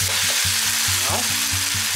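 Chicken masala with salt is stirred and mixed in a sizzling pan, a continuous close frying hiss with spoon movement running under a steady, rhythmic background tone.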